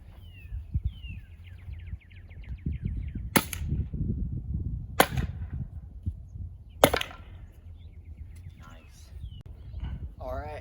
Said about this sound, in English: I just pounded the harder wood into the ground